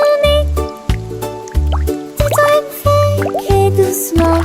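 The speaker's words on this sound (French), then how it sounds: "Une goutte était tombée sur mon nez" Raindrops dripping in a French children's counting song: a rhythmic series of bright plops and drips, each distinct and close, set over a gentle musical accompaniment.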